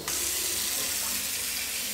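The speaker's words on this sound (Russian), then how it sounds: "И теперь я только включаю воду" A household water tap runs in a steady, loud hiss for the whole stretch, on a home water supply fed by a pressure pump whose pressure drops too quickly.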